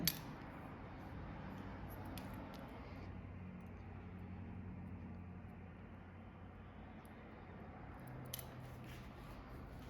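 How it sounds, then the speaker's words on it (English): Scissors point-cut natural hair during a pixie haircut. The snipping is faint and close, with a few sharp clicks at the start and near the end against a quiet room hum. "Just point cut that a tiny bit."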